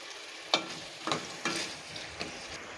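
Ground onion and tomato paste stirred into a sizzling channa masala base in a pan, a low continuous frying hiss broken by about five rhythmic scraping strokes of the spoon, close and with no voices.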